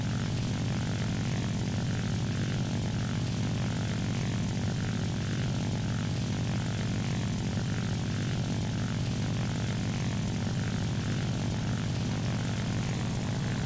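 Steady, continuous drone of a propeller plane's engine in War Thunder, a constant loud hum with no talk over it.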